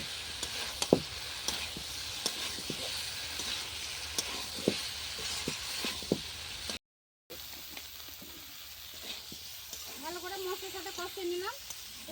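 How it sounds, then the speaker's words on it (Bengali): Fried mixed winter vegetables stirred with spice paste in a pan on a clay stove: continuous sizzling with frequent sharp scrapes and clacks of a spatula, a brief dropout, then a faint voice-like tone under the frying. "সবজিগুলো ভালো করে মশলার সাথে কষিয়ে নেবো"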